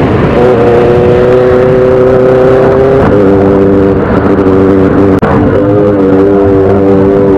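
A superbike at steady speed holds a loud, continuous engine drone with strong, muffled wind buffeting on the camera mic, which is partly covered by a hand; there is a brief dip and knock midway.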